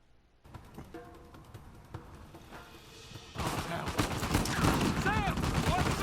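Turret machine-gun fire rattles in Uncharted 4 as a rapid, loud stream of shots that grows heavier and more intense in the second half, with game voices and effects mixed in.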